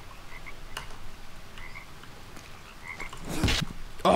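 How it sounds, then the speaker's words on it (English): Poison dart frog in the jungle survival game Green Hell croaking in a few short chirps over a steady ambient bed of jungle background noise, followed by louder rustling near the end. "Poison dart frog, boom."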